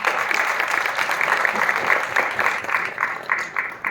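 A crowd applauds at a movie launch event held at a hotel venue, steady dense clapping that fades slightly toward the end.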